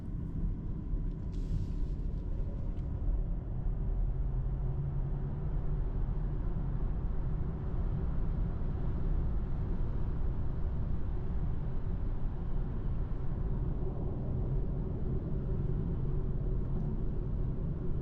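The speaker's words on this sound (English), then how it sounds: "Now let's take it for a highway drive and see how it performs at higher speeds." A BMW i4 eDrive40 electric car cruises at highway speed, heard from inside as a steady, even road and tire rumble with wind hiss and no engine note throughout.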